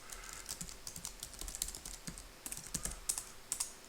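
Quiet, close tapping on a computer keyboard while a bash script is entered, irregular keystrokes in uneven bursts over a faint background hiss, with no talk.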